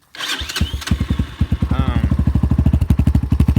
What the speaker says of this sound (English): I wanted to hear the sound of the engine when it came to its rev limiter.